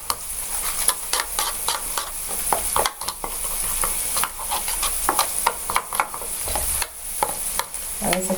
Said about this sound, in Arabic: نشوح البسله والجزر